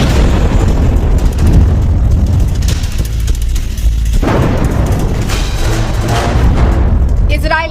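Heavy booms from missile strikes in the Israel–Iran war come one after another, deep and loud. A dense rumble and crackle sits between them, and a voice talks over part of it.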